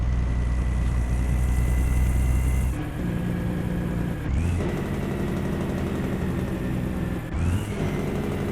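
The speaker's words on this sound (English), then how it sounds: "How smooth that engine is" Freightliner FLC truck engine idling and rumbling steadily through an open cab window, a continuous loud low drone with brief shifts in tone partway through.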